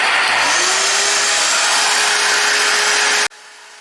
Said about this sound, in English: the drill press is on this one